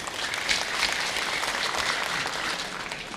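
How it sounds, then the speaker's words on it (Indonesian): Steady applause from an audience fills the hall at a public mayoral election debate in Prabumulih, dense and even throughout without a break. "Waktu habis, silakan tepuk tangan."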